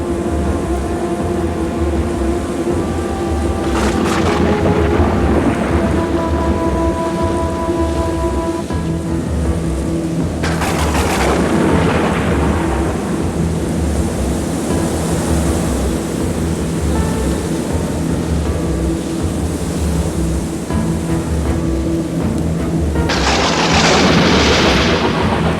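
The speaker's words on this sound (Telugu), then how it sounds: "అప్పటి వరకు మెల్లగా వీచిన గాలి పెను తుఫానుగా మారి ఈదురుగాలులు మొదలయ్యాయి." An animated storm sequence roars with a steady wash of rain and gusting wind, punctuated by loud thunder claps near the start, around ten seconds and again near the end, with no talking.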